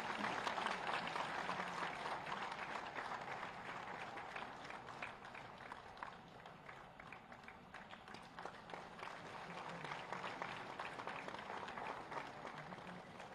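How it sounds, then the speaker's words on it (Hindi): Applause fills a teachers' award ceremony honouring state teacher award recipients, a large crowd clapping steadily and continuously at moderate distance, with the clapping swelling and easing slightly over time. "एक बार सभी शिक्षकों के लिए तालियां।"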